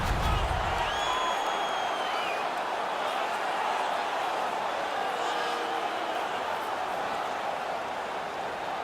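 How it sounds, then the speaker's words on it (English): Steady crowd roar from a hockey arena in the NHL 19 video game, with murmur and scattered cheering holding at an even level throughout, no distinct voices standing out. "The crowd is all over them right now."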